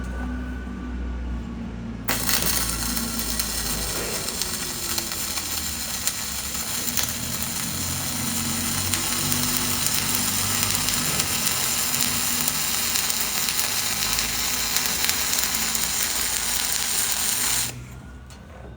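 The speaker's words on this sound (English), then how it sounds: "So now we're gonna push it this time and see if we can get a messed up weld" Flux core arc welding with the gun pushed along the joint gives a loud, continuous crackling sizzle that starts abruptly, runs steadily for about fifteen seconds and then cuts off.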